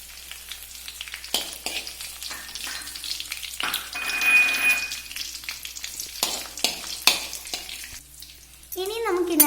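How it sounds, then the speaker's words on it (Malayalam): Dried red chillies sizzle in hot oil with browned onions in a pan, a steady frying hiss broken by clattering stirs and scrapes, with no voice heard. "ഇനി നമുക്ക് ഇതിനകത്തോട്ട് വറ്റൽമുളക് ഇട്ട് കൊടുക്കാം."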